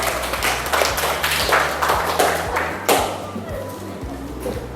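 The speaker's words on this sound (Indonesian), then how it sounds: "Kasih tepuk tangan buat kelompok 4." Students in a classroom clap for group 4 during a team quiz game, an uneven flurry of claps and thumps with some taps and voices mixed in, loud at first then thinning out.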